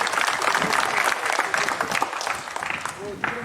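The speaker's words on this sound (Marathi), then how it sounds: "सर्वांनी जोरदार टाळ्या वाजवायच्या आहेत." Loud, dense applause from a village gathering honoring an army serviceman, continuous clapping filling the whole stretch with crowd noise mixed in.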